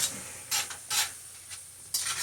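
Sofrito sautéing in hot oil in a pan for Puerto Rican yellow rice, with a steady sizzle and several loud bursts of spoon scraping and stirring against the pan, no voices.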